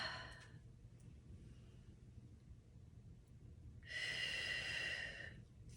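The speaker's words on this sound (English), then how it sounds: "We're going to end with some nice breaths, nice long, slow, intentional breaths here." A slow, deliberate breath cycle during gentle seated stretching: a soft breath at the start, quiet stillness, then a long, steady, airy exhale near the microphone lasting over a second, with no talking.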